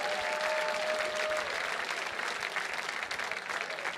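Applause for donors at The Mountaineers 2025 annual gala rolls on as a steady, moderately distant round of clapping from a seated audience.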